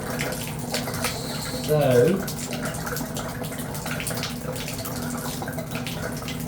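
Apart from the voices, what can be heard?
water draining from Delta tub faucet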